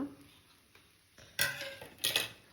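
A spoon scrapes and clinks against a pan as chicken fried rice with red chili sauce is mixed, with a few sharp metallic clatters close by after a quiet start.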